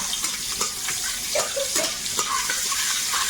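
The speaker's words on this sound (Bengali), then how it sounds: "এই শুকনো লঙ্কা তেলে দিয়েছে" Dried red chillies frying in hot oil, a continuous close sizzle and crackle with scattered pops and small stirring scrapes, steady and fairly loud, no voices.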